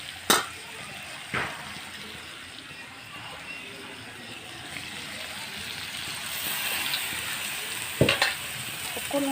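Broiler chicken and mustard greens simmer and sizzle in a pan after a little water is added, a soft continuous bubbling hiss with a few sharp utensil clinks near the start and toward the end.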